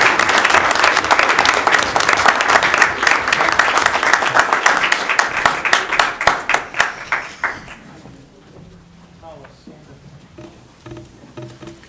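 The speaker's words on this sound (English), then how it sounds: "let's give him a big round of applause" Applause at a Mountainside, New Jersey council meeting for storm volunteers: a loud, dense burst of crowd clapping that thins into scattered individual claps and fades out after about eight seconds, leaving quiet room sound.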